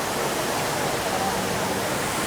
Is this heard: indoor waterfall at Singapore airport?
yes